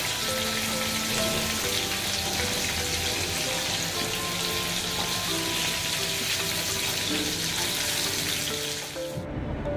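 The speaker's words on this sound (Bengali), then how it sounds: "এখন মাছগুলোকে আমি উল্টিয়ে পাল্টিয়ে ভেজে নিচ্ছি" Prawns with a light cornflour coating sizzle steadily in hot oil as they are turned, a loud, close, continuous frying hiss that stops abruptly at the end.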